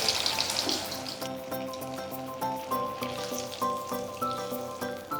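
Beetroot cheese balls dropped one by one into hot oil over a low flame, frying with a steady bubbling sizzle under soft background music that carries through the clip.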